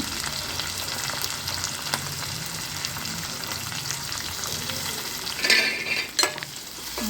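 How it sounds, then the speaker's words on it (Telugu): Onions and green chillies fry in a pan with a steady, close sizzle, and a spoon stirs them with louder scrapes and clatter toward the end. "రెండు ఆనియన్ తీసుకొని వేగనివ్వాలి కలుపుకోవాలి బాగా"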